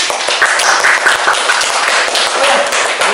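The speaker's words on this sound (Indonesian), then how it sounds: "Oh, tepuk tangan." An audience at an IPDN graduate introduction event gives a steady round of applause. The clapping is loud and sustained, with many hands overlapping into a continuous wash and no talk over it.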